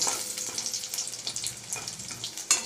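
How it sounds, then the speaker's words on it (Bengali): An egg frying lightly in a pan gives a steady, soft sizzle with scattered small crackles and pops, fairly close by, and no one speaking. "ডিমটা হালকা ভেজে নিই"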